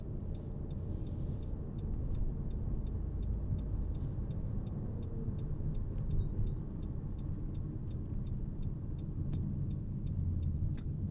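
Steady cabin noise inside a 2019 Nissan Rogue while driving: a constant low road and tire rumble with faint regular ticking above it, even in level throughout and free of talk.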